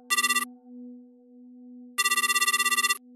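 A telephone rings during a call in a Japanese animated horror drama, with two bursts of a bright, rapidly trilling electronic ringtone separated by a long gap over a faint steady hum, ending in a short click.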